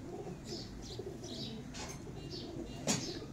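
Falak Sher pigeons coo softly in low repeated calls, with brief wing flaps and faint chirps over a light background murmur, heard from a rooftop loft at moderate distance.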